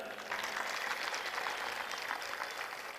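Crowd clapping in honor of parents and organizers at a large gathering marking the Ram temple consecration day, a dense, steady wash of applause heard from a distance, fairly soft and even with no voices.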